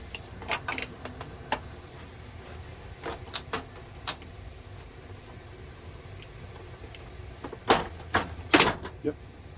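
A Triton Pro keyboard is pressed back into place during a key repair, giving scattered plastic clicks and snaps, some in quick clusters and a louder burst near the end, over faint background hum.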